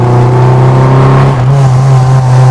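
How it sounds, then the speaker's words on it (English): A Lotus Elan Sprint's engine pulls hard under full throttle, a loud, steady droning growl from inside the car that rises in pitch, dips briefly as a gear changes, then climbs again. "So just listen to this. Put my foot down."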